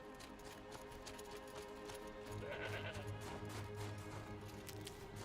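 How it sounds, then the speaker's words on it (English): A goat bleats in the Horizon Zero Dawn video game, one wavering call rising above a steady backdrop of in-game ambience. "I hear you, goat."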